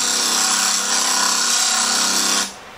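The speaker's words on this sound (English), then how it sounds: "I can continue to grind that until I leave just the shiny part on the top and bottom of my chisel" A bench grinder grinds metal from a chisel blade, giving a loud, steady, continuous abrasive whine that holds for over two seconds and then cuts off abruptly.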